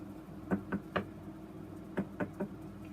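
Knocking on a door as a sound effect: two separate sets of three crisp knocks, close and alone with no talk.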